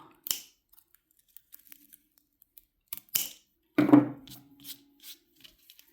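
Scissors snip yarn ends on a crocheted geode suncatcher, several crisp close cuts spaced apart amid quiet handling rustles, with a brief louder snip and rattle near the middle and no talk.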